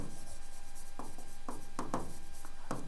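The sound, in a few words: writing on a board while explaining work function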